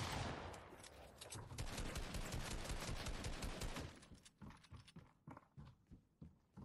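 Dense Fortnite gunfire in a 1v1 match, rapid sustained bursts for several seconds that thin into scattered separate shots, loud and close with no talk over it.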